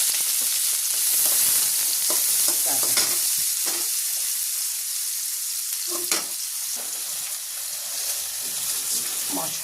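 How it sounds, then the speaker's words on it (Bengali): Tangra fish frying in a pan with a paste of ground spices, giving a steady close sizzle with stirring scrapes and light clatter that runs through the whole stretch without talk. "আমি তো এই যে রান্না করছি ট্যাংরা মাছ"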